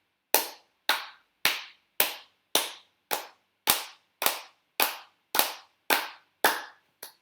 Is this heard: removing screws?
no